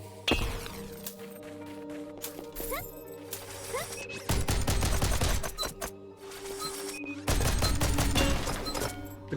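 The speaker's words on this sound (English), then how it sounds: "One of those ghouls activated the death turrets." Death turrets in Phoenotopia: Awakening blast in long, loud rapid-fire volleys, two dense bursts separated by short pauses, over game music and clanking effects.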